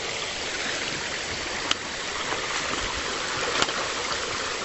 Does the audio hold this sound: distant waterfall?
yes